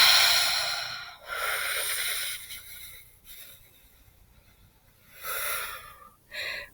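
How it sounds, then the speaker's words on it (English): Several deep, breathy exhalations come in slow, guided breathing. Long airy rushes of breath are separated by quiet pauses, close to the microphone and with no talking. "Release every little bit of air that you have in your lungs"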